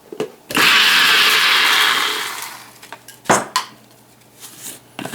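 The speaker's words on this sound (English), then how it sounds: "after you put all your spices in the grinder, or you can use a food processor, the blender, and we're just gonna give them a quick chop or pulse" A grinder or blender pulses a batch of spices: one loud, whirring burst of close motor noise lasting under two seconds, followed by scattered clinks and knocks of kitchen utensils.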